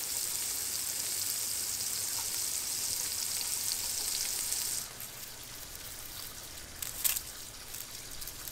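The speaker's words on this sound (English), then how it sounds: "Listen to that amazing sizzle." Fish fries in hot oil with a steady sizzle that crackles continuously, loud at first, then quieter after a few seconds with a brief spike of spattering.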